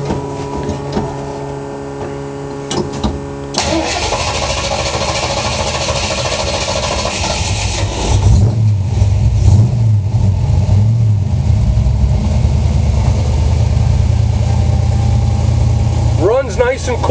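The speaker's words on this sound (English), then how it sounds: "Let you hear it start up and running." A 1950 Ford F100 hot rod with a 3-inch exhaust cranks over and fires up, then settles into a loud, steady running rumble as the engine turns over continuously.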